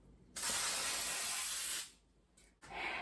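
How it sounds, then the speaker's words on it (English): A steady aerosol hiss as baking spray is sprayed into a cake pan for over a second, followed by a couple of shorter bursts, close up and fairly loud. "we are using the pan baking spray"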